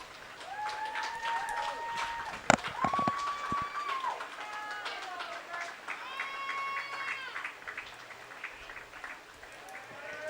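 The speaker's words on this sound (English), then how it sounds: "The fans here cheering them on." Fans at a baseball championship trophy presentation cheer and applaud steadily, with whistles and shouts rising over the clapping and a sharp bang near the start.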